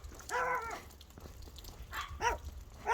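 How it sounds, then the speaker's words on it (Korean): A dog barks a few times near the grounds of Chiljangsa temple in Anseong, with short harmonic yelps at the start and again near the end over quiet outdoor ambience. "강아지가 왕왕 짖네요"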